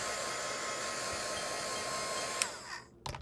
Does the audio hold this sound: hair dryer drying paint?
yes